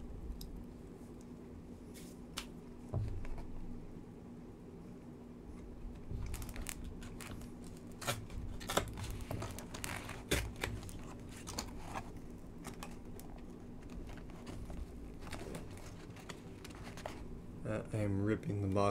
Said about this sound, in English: I am ripping the box open.